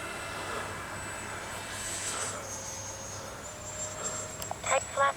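A Freewing T-33 80mm RC jet flies past after gear-up, its ducted-fan whine drifting in pitch across the sky at moderate distance, steady throughout with a few clicks toward the end.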